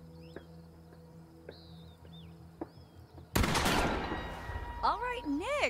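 Gunfire in The Quarry during a shooting-gallery game, with one sudden loud blast and a dense burst of shots and clatter, preceded by soft sparse ticks over steady background tones.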